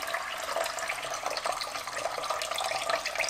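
Water gurgles and splashes steadily as it drains out of a part on a flooded Pontiac that sat for 33 years, a constant trickling rush with no voices.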